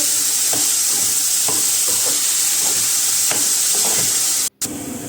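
Onions frying in a pan until brown for paneer bhurji, a loud constant sizzling hiss close up, punctuated by soft rhythmic stirring scrapes and a brief dropout near the end.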